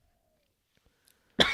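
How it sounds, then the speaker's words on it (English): One sharp cough near the end of a quiet stretch in a podcast setting, loud and close after near silence. "Sorry, I'm coughing."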